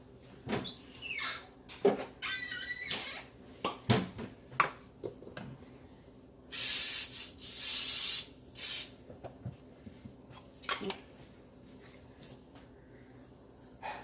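Coconut oil is sprayed in one longer hiss of about a second and a half while making a keto quesadilla, among scattered clicks and kitchen handling noises in a quiet room.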